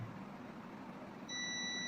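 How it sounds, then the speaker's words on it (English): A multimeter set to buzzer continuity mode lets out a thin, steady, high electronic beep that starts suddenly partway through, clear and close over a quiet room hum. "You can hear the beeping sound."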